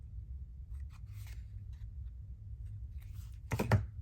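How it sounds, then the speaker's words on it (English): Scissors snip off small paper corners during a crafting session, a couple of quiet cuts coming near the end over a soft low background hum. "I think I might just snip those little corners off"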